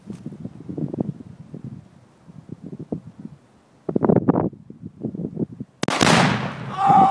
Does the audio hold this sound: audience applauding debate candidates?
no